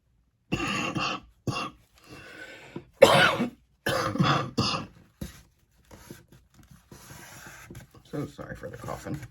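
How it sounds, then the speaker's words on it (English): Several harsh, close coughs come in short bursts with pauses between them, followed by fainter rustling and scraping sounds. "So sorry for the coughing."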